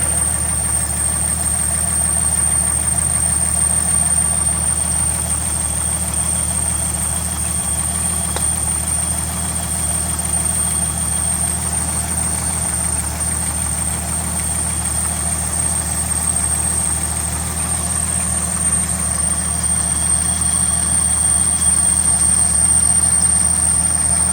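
A vehicle engine idling steadily up close, a constant low rumble with a faint high whine running through it, unchanging for the whole stretch with no talk.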